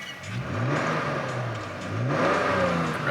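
A 2008 Toyota Tacoma X-Runner pickup engine revs up twice, rising and falling in pitch, close and fairly loud, with a steady idle between the bursts.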